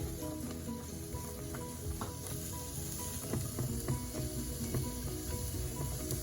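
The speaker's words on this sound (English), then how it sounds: "We're going to saute these onions just until they're translucent" Onions sautéing in a pan for funeral potatoes, giving a steady close sizzle with clinks and scrapes of stirring scattered throughout and no one talking.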